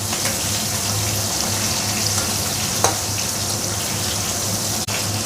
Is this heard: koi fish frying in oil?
yes